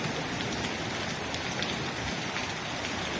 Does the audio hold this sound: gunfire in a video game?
no